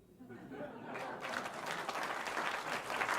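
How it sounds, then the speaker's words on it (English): Live audience applause breaks out after a joke at a roast, quickly swelling from a quiet start into full, sustained clapping with some crowd noise. "The applause break for the mediocre joke"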